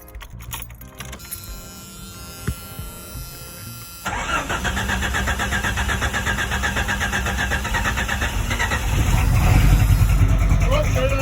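A 1989 Jeep Cherokee fitted with big injectors cranks and starts after some clicks and rattles, then settles into a loud, steady idle that grows louder near the end, with people talking over it.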